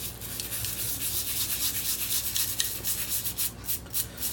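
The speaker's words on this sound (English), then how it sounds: "I'm going to scrub. I'm not necessarily pushing in. I'm going back and forth this way." A Mishimoto compact baffled oil catch can's micron filter is scrubbed back and forth with dish soap, giving close, steady rhythmic rubbing strokes that grow choppier toward the end.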